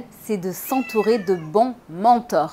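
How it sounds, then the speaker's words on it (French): A talkative cat meows in a drawn-out, wavering way, mingled with someone speaking French close by. "Désolée pour le chat, elle est plutôt bavarde et impossible à maîtriser."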